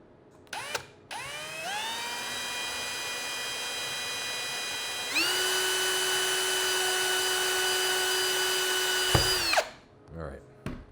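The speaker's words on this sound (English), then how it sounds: "And now I know where to drill" A power drill spins up with a rising whine, drilling into a 3D-printed telescope tripod part, runs steadily, then briefly speeds up higher before stopping, with small clicks at the start and end.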